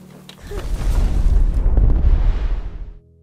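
A bomb hidden in a sack of food detonates in a loud, deep explosion that swells into a sustained rumbling roar for about two and a half seconds, then cuts off abruptly.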